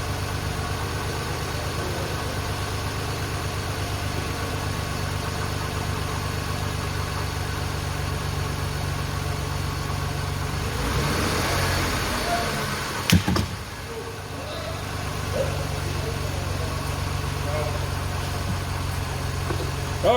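A Ford Taurus SHO engine idles steadily throughout, a low continuous hum with a brief louder rev or disturbance near the middle.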